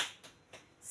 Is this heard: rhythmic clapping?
yes